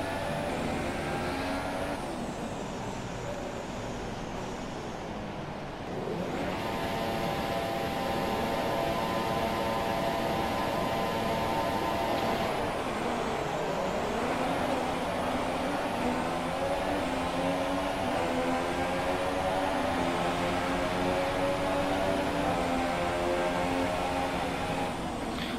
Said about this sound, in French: Allez, augmentez le son. Et on se retrouve au premier virage.